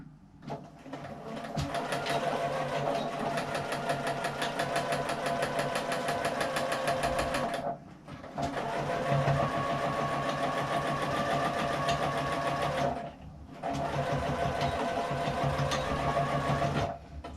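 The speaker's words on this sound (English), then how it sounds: "sewing right off the end with a bit of back stitching" Sewing machine stitching fabric for a small hand sanitizer pouch, a steady close rapid mechanical whirring in three long runs separated by brief pauses, heard alone without talk.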